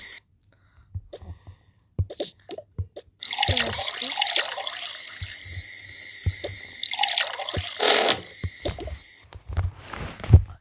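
Tap water gushes steadily into a sink while someone washes at home, after a few quiet clinks and drips at the start, then cuts off near the end.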